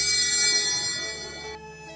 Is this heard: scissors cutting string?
no